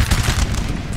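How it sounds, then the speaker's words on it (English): Rapid volleys of 4-pounder cannon fire crackle loudly in a Napoleonic multiplayer battle in Napoleon Total War, a dense, continuous burst of overlapping booms with no voices. "So Italy here taking a lot of morale loss, morale damage, and unit damage from these cannons here, doing a lot of damage."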